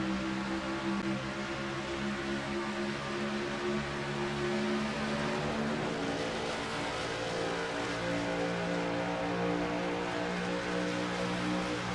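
Race cars on an oval racetrack accelerate on the green-flag restart, a dense steady roar of several engines with droning harmonic tones held throughout, loud and continuous with no talk.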